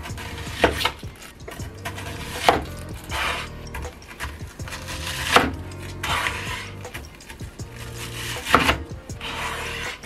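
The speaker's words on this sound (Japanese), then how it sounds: "玉ねぎを下処理から行っていきます。 だいたい5ミリぐらいの大きさの輪切りにしていきます。" A knife slices an onion into thin rings on a wooden board, each cut a crunchy thud arriving about every two seconds, close and fairly loud against a soft rubbing background, with no speech.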